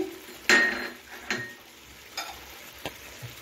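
Vegetables and eggplant with green chili and Malabar spinach leaves are stirred in a pan for a fish chechki, a quiet sizzle broken by a few sharp clinks and scrapes of a spatula against the pan.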